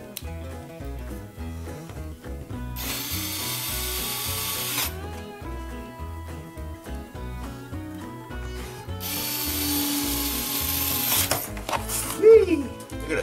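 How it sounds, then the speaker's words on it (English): Four screws being driven into an Atari kids controller with a hand screwdriver, producing loud close ratcheting clicks in two long rhythmic runs separated by quieter handling and scraping. "And then there's four screws and the old screwdriver."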